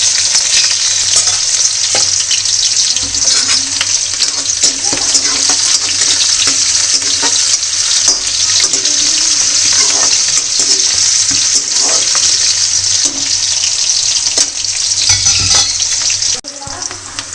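Onions and cumin frying in oil: a loud, continuous close sizzle with occasional stirring and clinks, dropping off abruptly near the end.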